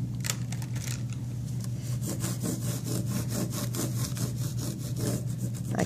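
Steady back-and-forth scratching of crayon rubbed across a textured plate to fill in a grass texture, a continuous close, rhythmic rasping with no voices.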